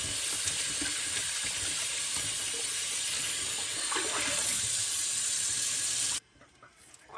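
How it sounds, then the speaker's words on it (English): Tap water runs steadily over smoked herring being washed in a sink, a constant close splashing hiss that cuts off abruptly near the end, leaving faint handling noises. "washing the smoked herring"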